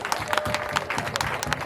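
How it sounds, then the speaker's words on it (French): Guests at a customary wedding ceremony applaud in a brief, loud burst of close, overlapping hand claps from a gathered crowd. "On applaudit."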